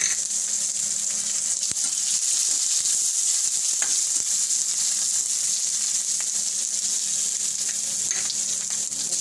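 Onions frying in hot oil with cumin seeds make a loud, unbroken sizzle up close, with faint stirring clicks now and then beneath the steady hiss.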